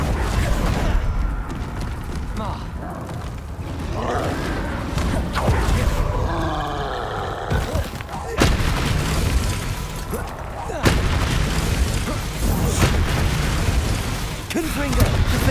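Confringo spell blasts in Hogwarts Legacy, several loud bursting booms and crackling impacts spread across combat, with grunts, roaring creatures and other spell effects in between.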